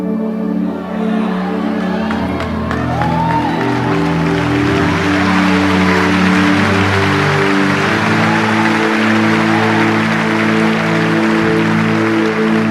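Church audience applauding and cheering a preacher, a steady, loud wash of clapping with scattered whoops that carries on throughout.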